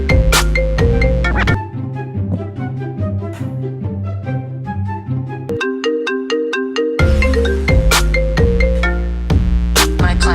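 A phone rings with a loud melodic ringtone, a repeating tune that plays without pause for the whole stretch, shifting pitch partway through, with no talking over it.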